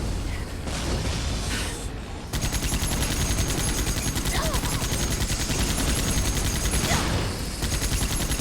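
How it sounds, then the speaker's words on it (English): Sustained rapid automatic gunfire from a weapon in the Dreamkiller video game, a dense continuous rattle of shots lasting several seconds with a brief pause near the start and faint game ambience behind. "Lots of bullets are coming out of my gun."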